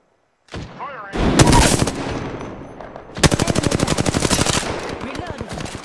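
Video game gunfire: a sharp shot, then a loud sustained burst of rapid automatic fire followed by another long, evenly pulsing stream of close machine-gun shots, with a voice calling out at the start.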